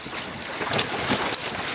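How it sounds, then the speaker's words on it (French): Wind rushes steadily past the microphone while sailing, a soft broadband hiss with faint water wash, no voices. "C'est le vent idéal."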